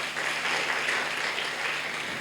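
A church congregation at a Thursday service breaks into a dense, even wash of applause at moderate volume, brief and unbroken, with no voices above it.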